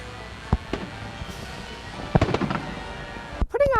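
Fireworks at a city event held at a softball complex in Bozeman boom in a few sharp, separated bursts at a distance, with a voice heard briefly near the end.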